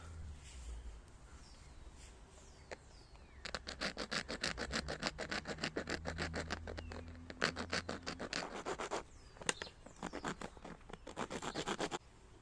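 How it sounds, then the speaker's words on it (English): Saw attachment of a craft blade cutting closely around the neck of a recycled plastic bottle: quiet, close, rapid rasping strokes in uneven bursts after a near-silent start, with no talking. "I'm going to be using the saw attachment of my blade, and I'm just going to start by really closely cutting at the edge here."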